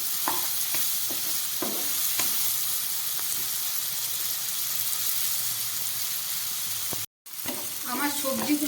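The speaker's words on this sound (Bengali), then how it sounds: "আমার সবজিগুলো ভাজতে ভাজতে অনেকটা মজে গেছে" Mixed vegetables sizzle steadily in a pan for restaurant-style mixed fried rice, a close, even frying hiss with a few light stirring scrapes, a brief silent break near the end, and a faint voice afterward.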